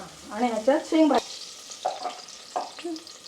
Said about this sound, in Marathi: हे मस्त असं आपण लसूण वगैरे फ्राय करून घेतलं आहे